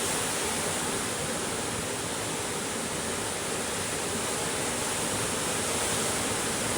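Steady, loud roar of rushing water, like heavy surf breaking continuously close by, with no pauses or voices.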